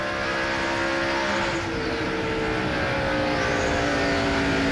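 NASCAR stock cars roaring around the track in a 2001 race, a loud continuous engine drone with pass-by swells as cars sweep past.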